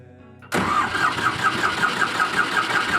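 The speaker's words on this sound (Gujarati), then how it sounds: "હવે આપણે ફિટ કરી દેવાનું છે અને સાલપ મારવાનું જોવાનું છે કઈ રીતનો આપણો અવાજ આવે છે" Ford 3600 diesel tractor engine being cranked during ignition timing setting, bursting in suddenly and loud up close with an even, rapid chugging rhythm throughout.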